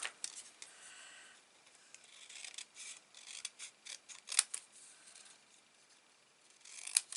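Scissors snipping out a paper sentiment for a handmade card, a series of close, crisp cuts in irregular rhythm, quiet and alone with light rustling between snips.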